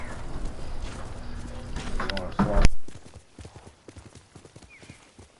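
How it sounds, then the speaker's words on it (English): Horse hooves clip-clop in Ghost of Tsushima as a mounted horse is urged on, a steady rhythmic patter of hoofbeats under game music and clatter before settling into quieter, evenly spaced footfalls. "Come on, horsey. Giddy up."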